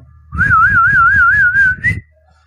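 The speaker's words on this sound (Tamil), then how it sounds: "உங்களுக்கு எது சுலபமாக வாயில் வந்து விசில் அடிக்க முடியுமோ அந்த மாதிரி விசில் அடிச்சுக்கோங்க" A person whistles through the mouth to call pigeons at feeding time: one close, loud, sustained whistle of about a second and a half with a rapid wavering warble, ending in a short upward note.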